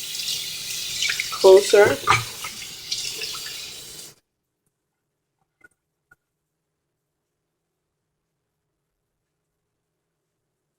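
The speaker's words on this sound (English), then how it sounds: "if you want to stop the water in the sink, you can always like loosen this a little bit" Tap water pours into a kitchen sink for about four seconds, a close, splashing rush with a few louder gurgles under brief speech, then stops, leaving near silence broken by two faint drips.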